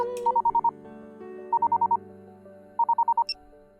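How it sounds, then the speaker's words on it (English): A phone's call button sets off a ringback tone of three groups of five quick beeping pulses, each group separated by a short pause, heard over soft background music. "I scrolled down to Emma's account and I pressed the call button."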